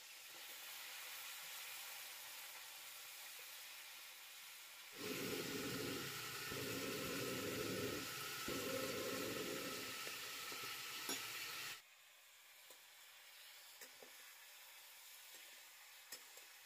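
Brinjal (eggplant) hits a hot pan and erupts into a loud, steady sizzle with stirring for several seconds, then drops to a faint hiss with occasional light scrapes.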